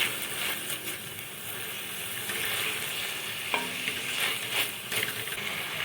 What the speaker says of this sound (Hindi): अब हम इसमें अदरक लहसुन का पेस्ट शामिल करेंगे। इसको भी 2 मिनट के लिए हम हल्का सा फ्राई करेंगे।